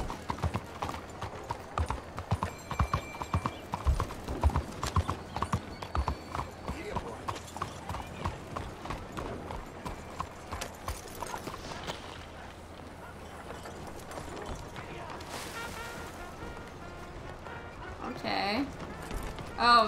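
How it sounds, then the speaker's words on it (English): Horse hooves clip-clop steadily on city streets in Red Dead Redemption 2's Saint Denis, a dense rhythmic patter up close that later fades, with a brief whinny and other game sounds near the end. "Get out of the way, horse."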